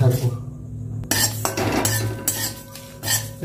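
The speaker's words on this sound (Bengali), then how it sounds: "এটা আমি নাড়তে নাড়তে ভাজা করবো। যতক্ষণ না ভালো করে ভাজা হচ্ছে তখন নাড়তে থাকবো।" A spatula clinks and scrapes against a kadai on a gas flame while cumin and whole dried chillies dry-roast. The stirring is close and uneven, with irregular metallic knocks.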